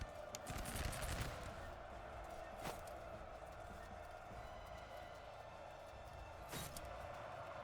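Musket fire rings out during a Revolutionary War-era battle in the Master of Command strategy game. A crackling volley bursts near the start, and single distant-sounding shots follow later over a steady low battle ambience.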